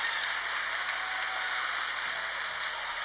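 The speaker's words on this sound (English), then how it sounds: "So we have fans get on their feet here, cheering on the Mustangs" Volleyball crowd cheering and applauding for the Mustangs at set point, SMSU against Minnesota State Mankato; steady, dense clapping and cheering from a large gym audience fills the whole stretch without let-up.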